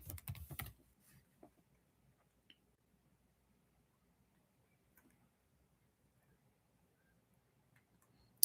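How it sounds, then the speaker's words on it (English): Faint typing on a computer keyboard: a quick flurry of keystrokes at the start, then scattered single clicks spread thinly across a quiet room. "I'm just typing background so I can look through for inspiration"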